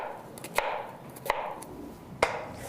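A knife chops an onion on a cutting board in three sharp, distinct thuds spaced roughly a second apart, close and clear over a quiet room background.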